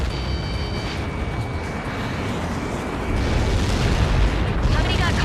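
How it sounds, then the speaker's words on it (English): Huge explosion impact in the video game Ace Combat 7, a loud sustained roaring rumble that swells stronger partway through, with a voice talking over it. "Somebody got caught in that explosion."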